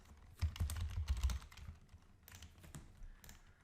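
Fingers tap quickly on a computer keyboard, a cluster of light clicks followed by a few scattered keystrokes, quiet and close with no talking.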